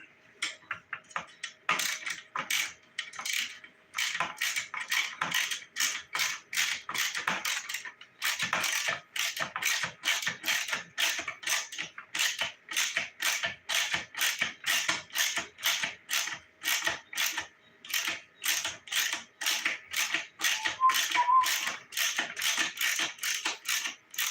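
Ratchet wrench turning a bolt as it threads in during plastic work on a Honda TRX250R ATV, a long steady run of close, crisp clicking strokes in even rhythm with brief pauses.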